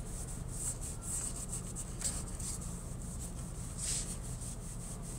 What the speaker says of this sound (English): So this is smoothing everything off and sort of buffing down anything that wasn't locked down